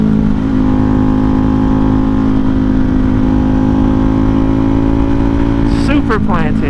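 A Ducati Hypermotard motorcycle with an Ohlins steering damper runs steadily at close range on a ride, its engine drone constant and loud throughout, with a brief rising rev near the end.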